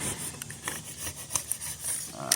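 A boat surface is hand-sanded with 200 grit sandpaper in short, uneven rasping strokes, close up and fairly quiet, with no talking.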